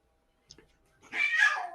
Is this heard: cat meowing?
yes